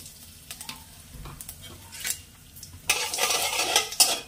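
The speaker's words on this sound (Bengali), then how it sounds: "তেলটা যখন একটু গরম হয়ে আসবে এর মধ্যে আমি 5 ফোড়ন দেব" Panch phoron spices dropped into hot mustard oil, starting with faint scattered clinks and taps, then breaking into a louder crackling sizzle for the last second and a half.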